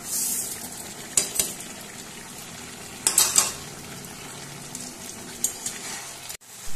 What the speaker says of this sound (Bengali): নারকেলটা দেওয়ার পর খুব ভালোভাবে নাড়াচাড়া করে নিয়েছি